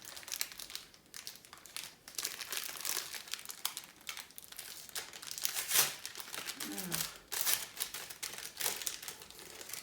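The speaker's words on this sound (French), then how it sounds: "Désolée pour le bruit d'un papier." Close, crisp crinkling and rustling of paper in irregular bursts, with brief louder crackles now and then.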